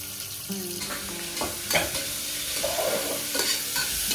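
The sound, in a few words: onion sizzling and being stirred in pan for mutton curry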